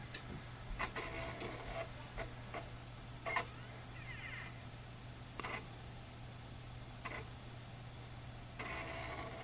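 A JVC DVD/HDD recorder's drive mechanism powers up with faint, scattered clicks and a brief whirring sweep, all over a steady low mains hum in a quiet room.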